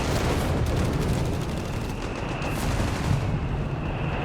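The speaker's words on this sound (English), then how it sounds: "More 88mm violent glory." Battlefield gunfire from Company of Heroes 3, with an 88mm Flak 36 gun firing amid a steady, dense wash of booms and rumbling combat noise, loud and continuous with no voices.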